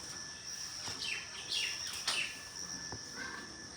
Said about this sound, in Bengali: দেখো চারি সাইডে পাখির আওয়াজ।